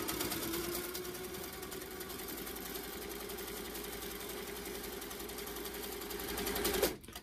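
Sewing machine stitching free motion quilting on a quilt block, a steady close rapid whir running continuously for several seconds before stopping abruptly near the end.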